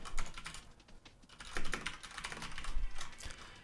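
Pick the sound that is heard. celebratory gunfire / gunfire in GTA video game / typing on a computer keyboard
typing on a computer keyboard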